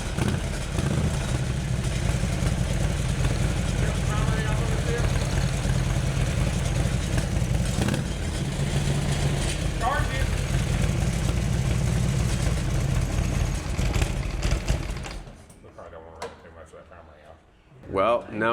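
A cheap, worn Harley-Davidson twin cam motorcycle engine runs close by with a steady mid-pitched rumble and mechanical clatter, overlaid by a voice talking; near the end the engine cuts off, leaving faint sounds.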